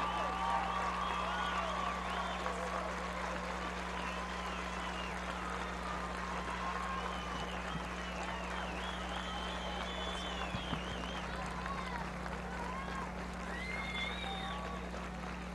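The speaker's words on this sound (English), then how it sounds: "a large round of applause for the young musicians and their wonderful directors" A large audience applauds a high school marching band at a 1998 district evening event, with steady, dense clapping and crowd noise heard from a distance over a constant low hum.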